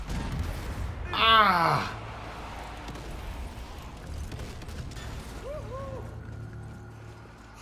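Heavy artillery fire pounding a tank in Zombie Army 4: Dead War, a loud burst of blasts and rumble around the second second, then ongoing battle noise beneath a voice.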